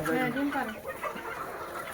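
Native chickens on a farm of about 250 birds cluck and murmur close by in repeated short, throaty calls, with overlapping cackles filling the brief moment.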